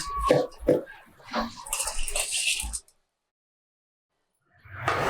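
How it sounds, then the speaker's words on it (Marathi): Rice is tipped into a pot of rolling boiling water while cooking pulao, making a short rushing splash and rustle that stops abruptly into silence before faint bubbling returns. "पाण्याला एकदम मस्त उकळी आली आहे तर आता यामध्ये हे तांदूळ घालूया"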